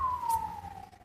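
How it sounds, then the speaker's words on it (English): A police siren wails in the distance outside, a single steady tone sliding slowly downward, faint under background room noise with no speech. "Sorry about the sirens and the noise in the back."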